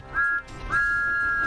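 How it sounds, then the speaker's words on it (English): A cartoon steam engine, Thomas, sounds two clear whistle blasts, a short toot followed by a longer sustained tone, loud and close with nothing else audible. "Everywhere Thomas went, he blew his whistle loudly."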